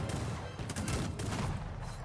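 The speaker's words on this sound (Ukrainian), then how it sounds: "Постріляйте, постріляйте." Sustained gunfire in Cossacks 3 as troops fight a desert battle: a thick, continuous crackle of overlapping shots with low rumbling underneath, loud and unbroken throughout.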